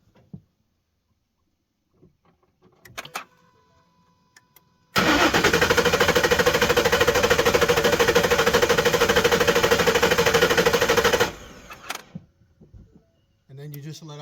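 A Ford F-150 engine cranks in flood mode, a loud, steady mechanical churn lasting about six seconds before cutting off, with quieter handling noises around it.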